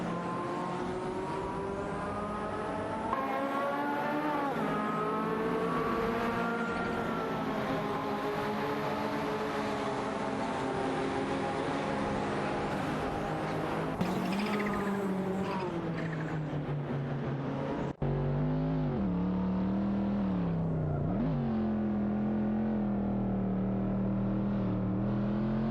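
Race cars, including a Porsche 959, lapping in a racing video game, with a sustained engine whine that rises and falls in pitch as the cars accelerate and shift, loud and continuous throughout.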